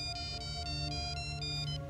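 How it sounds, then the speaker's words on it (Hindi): A mobile phone rings steadily with an incoming call, its repeating electronic ringtone pattern cycling several times at moderate, slightly muffled level with no talk over it. "ओह, कावेरी का फोन आ रहा है।"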